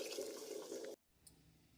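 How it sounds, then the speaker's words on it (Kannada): Water is poured into a mixer jar while tomato rasam is being cooked. A short, quiet, close trickle runs for about a second and then stops abruptly, leaving near silence with a faint clink. "ಮಿಕ್ಸಿ ಜಾರಿಗೆ ಸ್ವಲ್ಪ ನೀರು ಹಾಕಿ ಕಲಸಿ ಹಾಕ್ಕೊಳ್ತೇನೆ"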